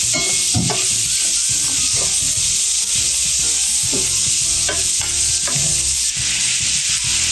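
Mushrooms with sautéed onion and garlic stirred in a pan with a little oil for chicken mushroom, a steady broadband sizzle under repeated scraping and clacking spatula strokes, close and continuous with no talk.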